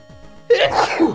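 A single sharp sneeze bursts out close and loud after a brief quiet lead-in, with a short breathy tail.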